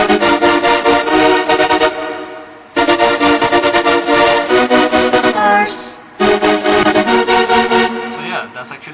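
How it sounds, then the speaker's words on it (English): Synth lead in an electronic track with its LFO modulating the tone, loud and bright, playing in phrases separated by short gaps, with a rhythmic pulsing texture throughout. "the LFO of the lead now sounds like this"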